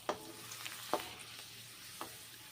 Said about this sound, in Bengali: গরম তেলের সঙ্গে পাঁপড় ভাজা ভেজে নিচ্ছি।